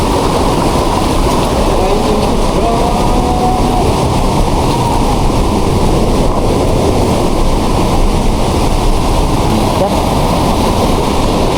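Waterfall water crashing down into a plunge pool at a falls in Iloilo, a loud, steady, dense roar filling the whole clip, close by, with wind buffeting the microphone and faint voices underneath.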